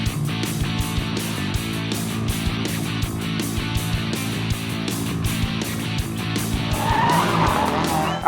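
A Dirt Star Racing Subaru Impreza rally car runs a night stage at a stadium during the 2019 Gomes International Rally in Ndola, Zambia. The engine roars steadily and up close, with tyre noise and revs climbing toward the end.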